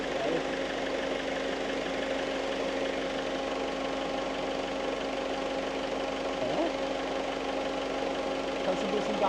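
Vehicle engine idling in an RV electrical setup with the alternator switched off, a steady, close mechanical hum and drone that holds even throughout with faint knocking texture.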